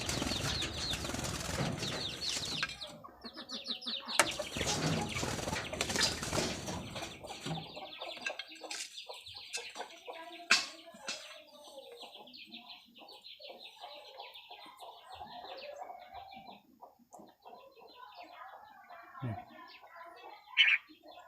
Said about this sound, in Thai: คือเสียงนกกรงหัวจุกเลยตัวนี้